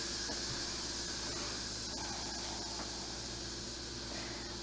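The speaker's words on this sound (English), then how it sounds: "Wait for all of the steam to come out." Steam hissing steadily from the pressure release valve of an Instant Pot after cooking a pumpkin pie, a constant loud broadband spray with no pauses throughout.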